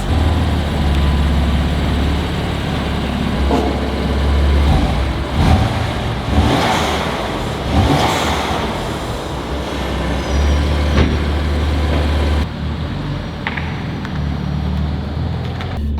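A BMW M4 with a titanium exhaust idles loudly nearby, holding a deep, steady drone with a few brief rises and hisses along the way.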